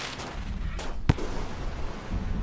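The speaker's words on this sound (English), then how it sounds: "There's my explodey spear there." An explosive spear detonates in the video game Rain World: one sharp, loud bang stands out midway over a steady rumbling game background.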